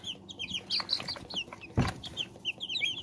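Young chicks in a brooder, a cluster of soft high cheeping peeps repeating close by, with a brief low thump partway through.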